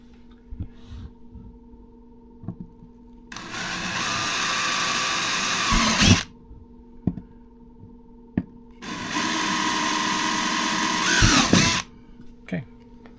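Power drill boring through a 2025 Can-Am trunk box mount in two sustained loud bursts of about three seconds each, separated by quiet with small clicks and handling noises.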